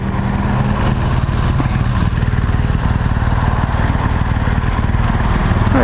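A BMW 1200 GSA demo motorcycle is ridden, its engine a loud, steady, throbbing drone heard close and continuous with no break.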